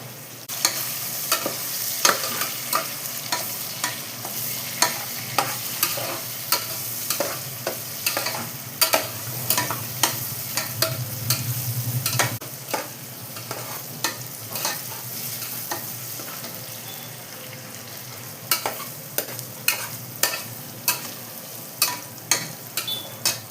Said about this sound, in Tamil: கொஞ்சமாக உப்பு வெங்காயம் வதங்கிறது நல்லா ப்ரௌன் கலர் ஆகணுமா